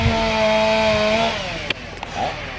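Stihl 660 chainsaw cutting trees, a loud buzzing engine at steady high revs that drops off after about a second and a half, followed by a few sharp knocks and quieter rumble.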